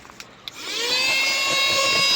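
A cheap 400 TL cordless rechargeable car vacuum cleaner switches on after a couple of soft clicks, spinning up to a steady high-pitched whine that holds loud and close.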